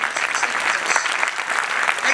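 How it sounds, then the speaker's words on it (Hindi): An audience gives loud, sustained applause for students at a GATE exam preparation talk, a dense crowd of clapping hands heard close and continuous for the whole stretch. "मैं चाहता हूं यार इन बच्चों के लिए एक बार जोरदार ताली बजाओ यार।"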